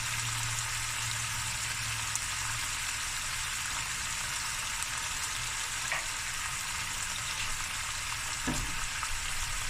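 Turmeric goes into a hot frying pan, and the oil gives off a continuous, even sizzle and crackle at close range with no other sounds.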